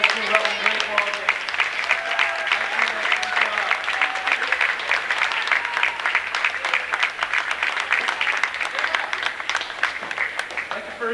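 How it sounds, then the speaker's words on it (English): Sustained crowd applause and cheering for boys' 8th grade CYO basketball championship teams in a gym, steady dense clapping throughout with voices mixed in. "Give a round of applause."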